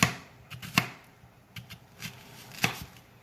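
A knife chops through an onion on a cutting board, a few irregular sharp taps spaced across a quiet background, close and distinct.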